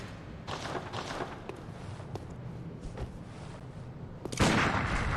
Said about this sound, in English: Now let's compare that to my hunter pistol